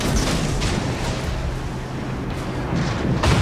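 Warship naval guns firing salvos in World of Warships, deep rumbling booms rolling over a constant roar of sea and engine noise, with several heavy blasts spaced across the scene.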